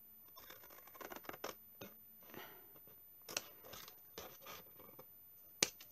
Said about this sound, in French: je vais venir couper l'excédent, les deux petites bandes qu'il y a de chaque côté